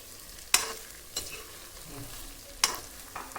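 Food frying in a pan with a soft sizzle, broken by a few sharp scraping clicks of a spoon stirring against the metal, close and without speech.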